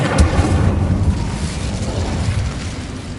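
Fire spell cast in the video game Hogwarts Legacy, a loud bursting whoosh that starts with a sharp onset and rolls into a dense, rumbling roar lasting a few seconds.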